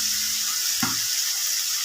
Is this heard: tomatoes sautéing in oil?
yes